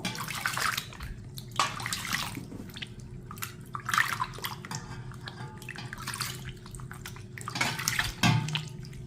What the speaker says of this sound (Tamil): கொஞ்சமாக தண்ணி போட்டு நல்லா இப்படி வந்து தேய்ச்சிக்கோங்க. இப்போ வாஷ் பண்ணிடுவோம்.